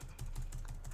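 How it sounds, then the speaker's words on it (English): Rapid keystrokes on a computer keyboard, a steady run of close clicks with a low hum underneath and no talking. "Stop typing."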